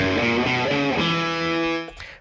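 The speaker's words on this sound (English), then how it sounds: "there's reverb added to that guitar right there" A distorted electric guitar rings out sustained chords washed in reverb, then cuts off abruptly near the end.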